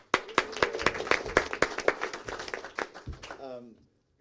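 Audience applause at a New Hampshire Democratic Party gathering, with scattered sharp claps over a steady patter that fade out after about three and a half seconds, while a voice speaks underneath.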